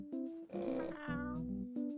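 Cats meow in a video game, drawn-out, tonal meows that overlap and shift in pitch over a steady background tone, fairly loud and close, with no speech.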